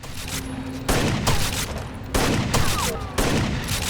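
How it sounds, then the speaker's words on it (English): Bursts of gunfire ring out in the shooter game Rainbow Six Vegas 2, coming as three loud sustained volleys of rapid shots separated by short gaps, with game noise underneath. "Shotgun blasts increasing in volume mean that you're on your way to getting one-shotted."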